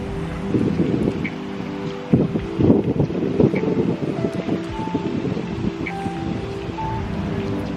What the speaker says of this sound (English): It's like super windy too,